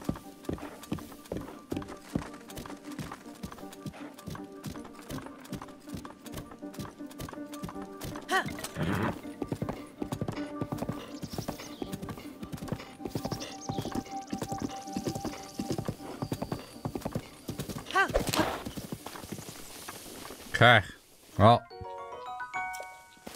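A horse in Zelda: Breath of the Wild gallops with a fast, steady clip-clop of hooves, loud and close, with bell-like tones and a neigh near the end.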